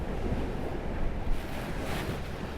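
Sea swell and surf wash around a sailboat under way from Roscoff toward Ouessant, a steady rushing roar of water mixed with wind buffeting the microphone, surging slightly at moments, with no talk.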